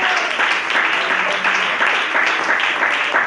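A church congregation applauds during a Spanish-language sermon, loud and steady massed clapping with a faint sustained tone beneath, continuing evenly throughout.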